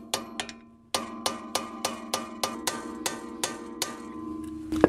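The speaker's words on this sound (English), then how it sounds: "So I'll just take the end of it, hit the end of the screwdriver." A hammer taps the end of a screwdriver set in a stuck brake rotor screw, giving about a dozen ringing metallic strikes in a steady rhythm that slows slightly, close up with no talking.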